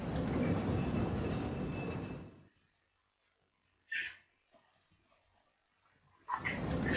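Rumbling ghost train ride in Resident Evil 4 rolls loudly, drops away to near silence broken by a sharp metallic screech, then surges back with heavy clattering noise.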